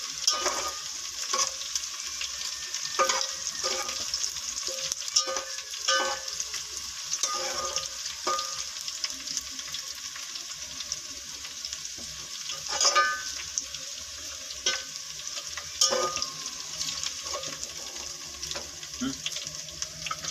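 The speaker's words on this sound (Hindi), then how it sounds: "जीरे को हल्का सा फ्राई करेंगे।" Cumin seeds fry in hot oil in a pan for a potato and pea curry, giving a steady close sizzle broken by repeated light clinks and scrapes of a stirring spoon.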